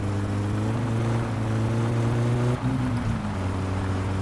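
A rally car engine in My Summer Car drones steadily at a low, even pitch, then shifts slightly as it is taken up into second gear, loud and constant throughout with no talking.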